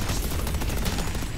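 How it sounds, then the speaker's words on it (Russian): A turret in the game Deadlock fires a dense, loud, continuous stream of rapid shots, close and unbroken for the whole moment with no voices. "Турельку выстрелили"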